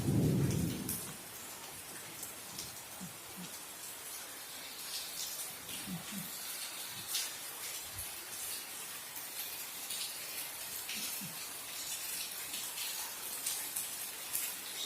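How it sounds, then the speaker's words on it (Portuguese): Heavy rain in a thunderstorm near a tilapia pond, a steady hissing downpour with scattered drips and low rumbles, close and continuous for the whole stretch. "Muita chuva."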